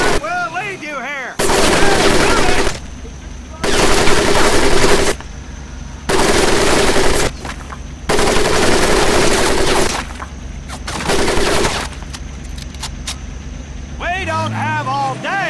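Machine gun fire over a mud pit during boot-camp training in Medal of Honor, loud sustained bursts repeating in a steady on-off rhythm of roughly two seconds each, with a shouted voice at the start and end.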